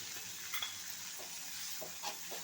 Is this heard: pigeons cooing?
no